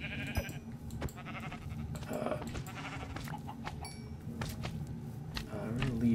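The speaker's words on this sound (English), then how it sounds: "And, okay, so there's some sheep here." Sheep bleating in the video game Minecraft, several short wavering bleats scattered over a busy background of game sounds and footsteps, moderately loud and repeated at irregular intervals.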